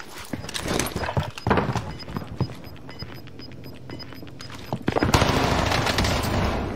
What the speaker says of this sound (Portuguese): Tem cara atirando na gente lá de cima da prisão.